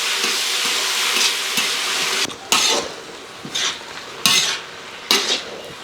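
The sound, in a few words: mustard seeds frying for green gram thoran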